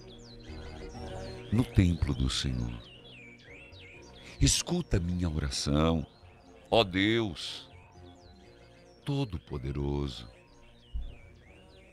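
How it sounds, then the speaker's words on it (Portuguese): Small birds chirp and tweet in repeated high trills between the phrases of someone speaking Portuguese during a church novena service, the birdsong continuing softly behind his voice. "Está escutando os passarinhos cantarem"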